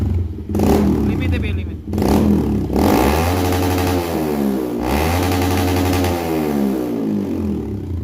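A Honda CRF150L motorcycle engine after an ECU remap is revved in several loud, close bursts that climb and fall in pitch, with people talking over it.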